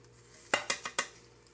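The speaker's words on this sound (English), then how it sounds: "Scrape those onto the plate." Four quick metallic scrapes of a utensil pushing cooked eggs from a pan onto a large plate, close and distinct against a quiet kitchen hum, with no talk.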